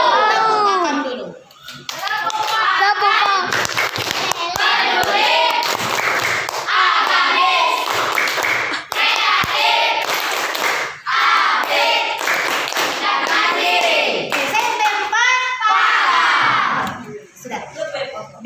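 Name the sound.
class of children clapping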